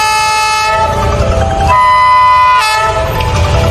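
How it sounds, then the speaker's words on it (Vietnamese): A train horn sounds in long, loud sustained blasts over the steady rumble of the moving train, with the horn's pitch shifting partway through. "Đó chính là tiếng của tàu hỏa đấy các con ạ."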